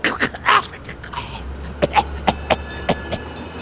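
A video game character gives a few harsh coughs and throat-clearing bursts, loud and close, followed by a string of short rough hacks spaced about every half second.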